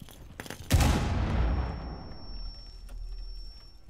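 Gunfire in Rainbow Six Siege, heard as a few quick shots followed by one loud booming blast that decays slowly into a rumbling tail, with a faint steady electronic tone underneath.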